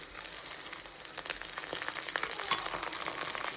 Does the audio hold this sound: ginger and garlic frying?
yes